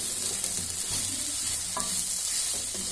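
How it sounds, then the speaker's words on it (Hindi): Soybean and potato curry with spices stirred in a pan: a continuous frying sizzle with soft, rhythmic scraping of a spoon and an occasional light clink, close and steady. "थोड़ी देर के लिए इसको अच्छे से मिक्स करते हैं ताकि मसाला है वो सोयाबीन और आलू में अच्छी तरह से समा जाए।"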